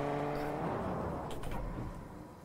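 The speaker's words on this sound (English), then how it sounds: "I hear cars" Cars drive and rev in a Fortnite match, a steady engine whir that holds loud and then eases off as it fades slightly into the distance.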